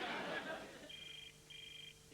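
A telephone ringing on the other end of a call: two faint, steady electronic ring tones, each lasting under half a second, heard after a short burst of noisy background.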